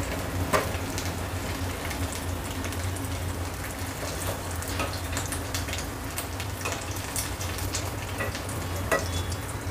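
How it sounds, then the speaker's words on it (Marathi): Potato bites fry in hot oil with a continuous crackling sizzle and scattered pops, steady and close for the whole stretch with no talking. "अशा प्रकारे आपले बटाटे हे छान तळून होते."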